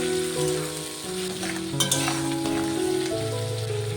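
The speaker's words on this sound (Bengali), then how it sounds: "কাঁকড়ার ঘিলো আর ঠ্যাংটাকে একটু কষিয়ে নিয়েছি।" Crab legs and crab brain fry in a pan with chopped tomato for a bottle gourd dish, a close, continuous sizzle with stirring scrapes and no talking.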